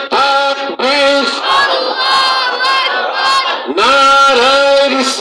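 A rally crowd shouts the takbir chant in unison, loud and sustained with a brief break before the next massed response, as many voices roar together at close range.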